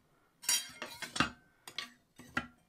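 A large, heavy-duty serrated kitchen knife is handled and set down, making several close, quiet clinks and taps of metal against hard surfaces in irregular bursts.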